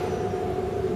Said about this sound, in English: Maybe you can hear some of the trains in the background.